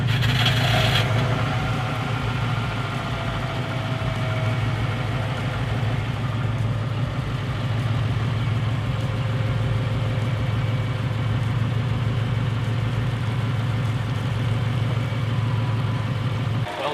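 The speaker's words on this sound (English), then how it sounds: "basically a normal Subaru engine sound." Subaru Impreza engine idling after a new radiator install, a steady low mechanical hum with a faint tick, loud and close, running evenly throughout with no talk.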